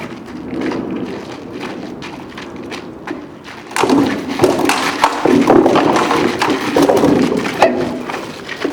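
Weapons striking in a gladiator combat reenactment at Fort l'Écluse, a string of loud, close thuds and knocks, getting denser and heavier partway through, with no talk.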